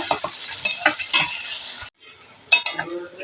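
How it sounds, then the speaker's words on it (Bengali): Garlic paste sizzles loudly in hot white cooking oil over fried onion, stirred with a utensil in a pan. The sizzle breaks off briefly near the middle, then returns with more scraping and stirring. "রসুন বাটাটা এরমভাবে আমি ঠিক ভেজে নেব"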